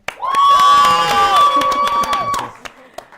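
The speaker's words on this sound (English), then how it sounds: "Please give a big round of applause" A studio audience bursts into loud cheering, whoops and clapping to welcome a guest on a community talk show, sustained for about two seconds before fading into a few scattered claps.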